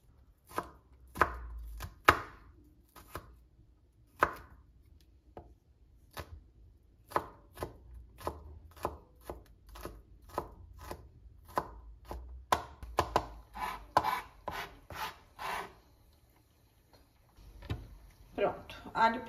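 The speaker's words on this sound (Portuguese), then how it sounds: "Pronto, alho picado." A knife chopping garlic on a cutting board, with sharp, close, rhythmic strikes that speed into quick bursts, then pause briefly and resume.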